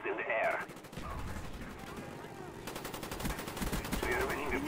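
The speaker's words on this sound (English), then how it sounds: "I killed the guy shooting you down." Rapid automatic gunfire bursts in Call of Duty: Black Ops, loud and near, hammering in rapid streams across the passage with brief gaps between volleys.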